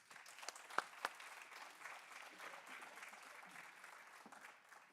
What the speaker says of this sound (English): just a big round of applause for these students